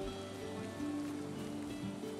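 Steady rain falls in the Valheim video game, a continuous close patter that runs the whole time beneath sustained tonal game music, with no talking.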